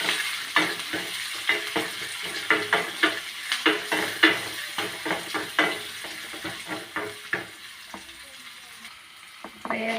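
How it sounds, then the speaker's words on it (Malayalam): Mustard seeds with a little fenugreek fry in hot oil in a pan for mango pulissery, giving a steady sizzle with rapid crackling pops at an irregular rhythm, close and fairly loud. "ലേശം കടുക് വറുത്തു."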